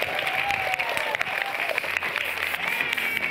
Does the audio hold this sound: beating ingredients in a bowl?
no